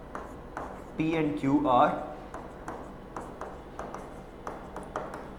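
A maths teacher writing out a proof on a board during a class, repeated short scratchy strokes in an even rhythm with a voice speaking briefly partway through.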